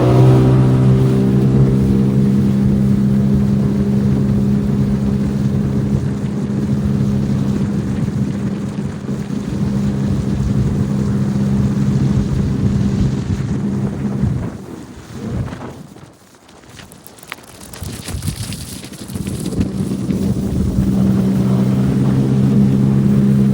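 Sea-Doo Trixx personal watercraft engine held at high revs in sport mode, a loud steady droning roar that drops away briefly near the end before surging back up.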